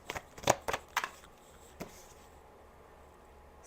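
A deck of cards is shuffled in a few quick, crisp riffling bursts followed by a soft single snap, then near silence; faint and close, with no talking.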